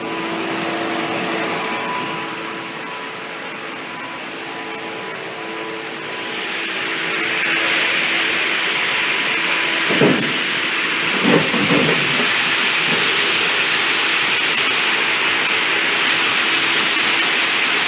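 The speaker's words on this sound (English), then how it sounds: "Every time it spins, it means it's a new tote that has gone through, and the sanitizer is activated, and it cleans the tote with sanitization." A utensils tunnel tote washer, MLT830, hums and hisses steadily, then swells into a louder broadband spray of sanitizer as it spins, with a few short clunks partway through; close, continuous machine noise without talk.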